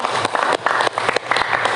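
Classroom applause, a short burst of clapping from a group of students, loud and close, with uneven overlapping claps throughout.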